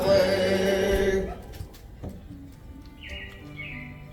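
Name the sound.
robins chirping in Carousel of Progress show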